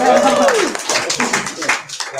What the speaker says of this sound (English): Let's give a round of applause for the awesome Jenga.